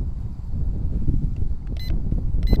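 Wind gusts steadily against a microphone outdoors during a quadcopter flight, a low continuous rumble with a couple of faint electronic beeps near the end.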